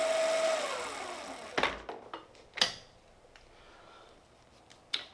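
Lunacycle e-bike kit hub motor spinning under throttle, a whining motor tone that winds down early on, followed by a few sharp mechanical clicks and clunks close by.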